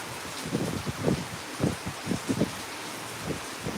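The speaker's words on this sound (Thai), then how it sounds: "ฝนตกดูดิทุกคนลุก" Rain falls outdoors at night as a steady wash of noise, with soft irregular thumps and gusts from wind buffeting the microphone.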